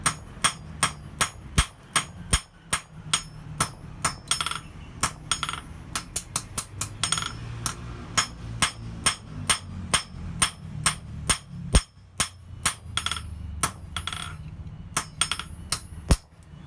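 A hammer strikes steadily and repeatedly to stamp a maker's mark on a hand-forged woodworking chisel, making sharp metallic blows at a fairly even rhythm with occasional quick doubles, close and alone.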